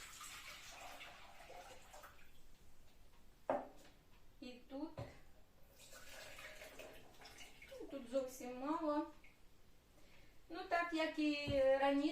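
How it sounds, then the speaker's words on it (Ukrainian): Water pouring and splashing into a pot, one litre for pickling cucumbers, with gurgling bursts and a rising, ringing tone as it fills, plus a few clinks. "Виливаю в каструлю."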